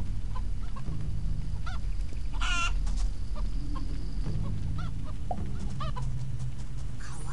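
In the video game Mini Ninjas, the magic chicken clucks and squawks over a constant low game rumble, with a run of sharp, loud cackling calls near the middle and scattered clucks before and after.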